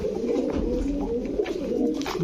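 A male pigeon cooing close by, a low, throbbing, repeated coo held steady and fairly loud, with no talking over it.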